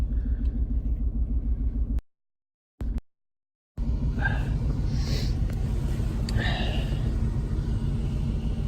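A high-mileage Chevrolet K1500 pickup truck with about 322,000 miles idling on a freezing day, a steady low engine rumble broken by two short silent gaps, with faint clicks and a soft voice over it.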